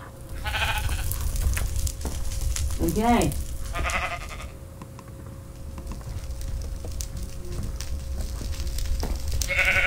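Several sheep bleats in a video game ring out over a steady low hum and a speaking voice, one wavering bleat standing out clearly near the start.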